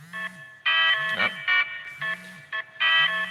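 Kitchen timer going off as repeated electronic beeping in uneven bursts, with short tonal pulses and pauses, fairly clear and alone.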